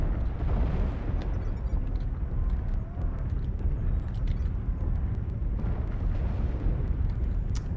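Artillery strike shells land in MechWarrior Online, producing heavy rolling booms and rumbling blasts that swell and overlap in a continuous battlefield roar, with sharper crackles near the end.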